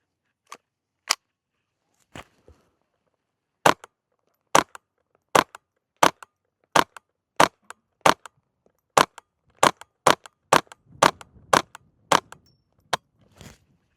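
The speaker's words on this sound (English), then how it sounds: "Next up, I got that 45 grain Federal suppressor ammo. Should be a lot quieter." Ruger Charger .22 pistol firing Federal 45 grain suppressor ammunition, about twenty sharp, fairly quiet cracks in a steady succession that quickens toward the end, with faint clinks and rustle between shots.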